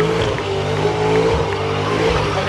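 Ute engines at a Big Boys Toys show roar at high revs, a loud, continuous, dense engine blare with no pause across the whole stretch.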